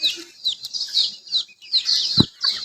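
Young native chicken chicks on a farm give rapid, bright, high-pitched peeps in quick bursts, close by, with one short low thump partway through.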